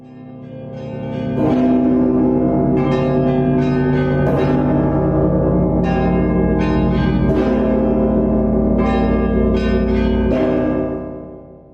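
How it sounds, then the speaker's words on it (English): Large church bells in Rostov, Russia, pealing together in a loud, rich, overlapping chime, with fresh strikes every second or two and long ringing decay; no voices. "This collection of bells is said to create a particularly harmonious sound for which Rostov has become known for."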